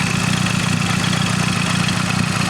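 A Mazda Speed3 with upgraded high-pressure fuel pump internals idles roughly close by, giving a loud, steady low drone with a fast, regular ticking pulse and no talk.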